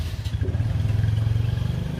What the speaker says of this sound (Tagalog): Hintay muna tayo ng motorsiklo.